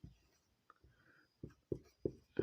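Pen or pencil writing on paper during a Class 9 maths lesson on number systems, heard as several short scratchy strokes in quick bursts, close and fairly quiet, with no talking over them.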